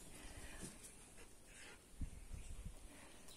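A dog pants and whimpers close by, quiet rapid breaths with a few soft whines, faint and without talk.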